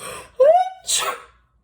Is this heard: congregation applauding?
no